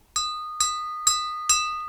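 A bell sound effect strikes four times in a steady, evenly spaced rhythm, each ring bright and clear with a ringing decay, marking a movie rating.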